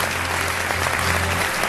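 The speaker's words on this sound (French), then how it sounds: "Applaudissements encore une fois pour nos amis." Audience applause after a trophy presentation at a stage show, a short, dense, even burst of clapping from a crowd with no voices over it.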